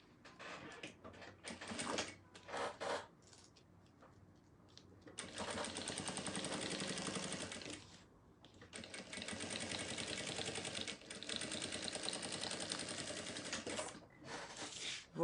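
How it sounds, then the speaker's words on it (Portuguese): A sewing machine stitches bias binding onto clear crystal plastic for a round cosmetic case. It starts with a few short bursts, then runs in two long, steady whirring stretches separated by a brief pause, close and loud. "eu vou pegar o plástico cristal, o viés vou abraçar assim e vou passar uma costura"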